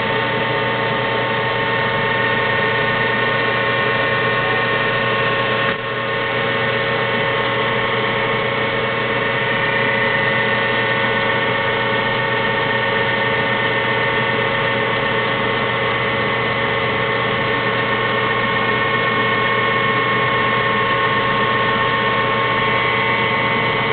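A machine cutting down an engine piston drones in a steady, unbroken mechanical hum, loud and close, with no talk over it.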